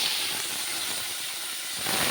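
Prawns fry in hot oil in a pan, a steady close hissing sizzle throughout this short stretch with no voices.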